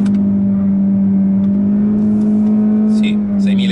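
A Mazda3 e-Skyactiv X engine holds a loud, steady droning note at high revs against the 6,500 rpm rev limiter, close by, barely wavering for a few seconds.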